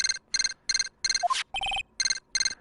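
Electronic transceiver ringing in the Phoenix Wright: Justice for All video game: repeated short bursts of bright, high warbling tones in a steady rhythm, with a brief lower chime in the middle, loud and close with no talk.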